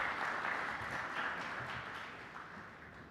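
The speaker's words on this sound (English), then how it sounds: "A round of applause." Applause from a conference audience welcoming an executive to the stage at an insurance event, a steady, moderately distant wash of clapping that gradually fades.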